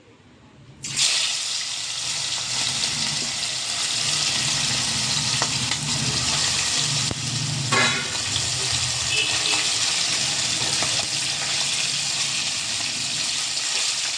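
Chicken pieces coated with salt, chili powder and turmeric drop into hot oil in a pan for an Andhra-style chicken curry. After a second of quiet, a loud sizzling starts abruptly and stays strong and steady, with occasional stirring clatter.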